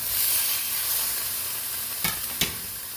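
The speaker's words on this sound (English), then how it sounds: "Let's go ahead and get a sear on it." USDA prime ribeye steak searing in a cast iron skillet, a steady close sizzle and crackle throughout, with two sharp clatters near the end.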